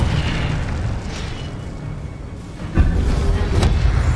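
A fiery Incendio spell erupts in the Hogwarts Legacy video game as a loud, continuous rumbling roar, with a sudden heavier burst near the end that keeps booming afterward.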